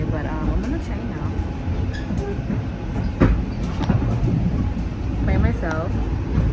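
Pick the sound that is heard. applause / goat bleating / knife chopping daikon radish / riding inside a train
riding inside a train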